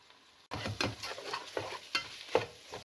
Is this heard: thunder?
no